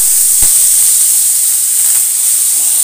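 Soaked pigeon pea lentils go into hot oil in a pan over a lowered gas flame for a dhaba-style dal fry, producing a loud, close, continuous hissing sizzle.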